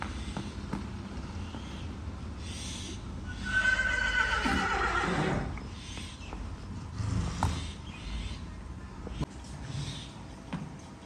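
A mare gives one loud, drawn-out whinny in the middle, amid quiet outdoor background at an animal sale, with a few faint knocks and hoof sounds.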